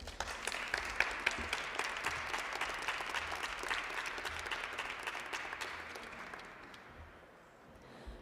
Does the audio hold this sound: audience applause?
yes